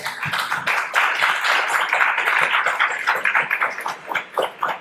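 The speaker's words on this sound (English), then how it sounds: "Give yourselves a round of applause." A crowd applauds steadily after a panel discussion, with dense overlapping claps that thin out toward the end.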